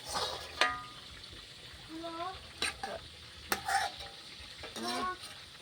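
A woman fries fish in a pan, with continuous oil sizzle, sharp clacks of a utensil against the pan and brief voices speaking over the cooking.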